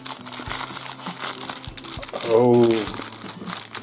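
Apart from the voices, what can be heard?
unwrapping Pop-Tarts packaging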